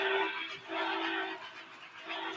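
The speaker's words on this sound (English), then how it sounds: "hit the whistle right now" A model train whistle on a toy railroad layout sounds in repeated steady toots, three or four short blasts in quick succession, fairly close and clear with no talk over it.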